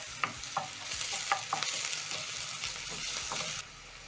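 Onions, garlic and ginger sizzling steadily in a hot pan while a utensil scrapes and stirs them in repeated strokes, close up and fairly soft, with no voices; the sizzle drops away just before the end.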